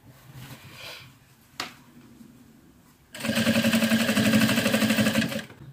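Sewing machine stitching fabric onto a shirt sleeve to widen it, starting with a brief soft run and a click, then a close, loud, rapid rhythmic stitching burst lasting a couple of seconds.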